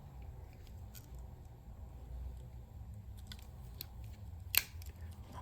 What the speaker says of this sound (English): the best in the world, Victorinox scissors.